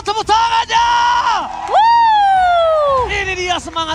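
Crowd at an esports grand final in Taman Ismail Marzuki erupts in loud cheering and whooping, rising and falling in waves with high yells cutting through, while a commentator's excited voice carries over the top.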